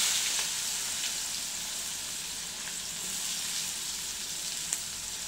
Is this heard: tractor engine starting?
no